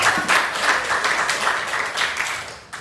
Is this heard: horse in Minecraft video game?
no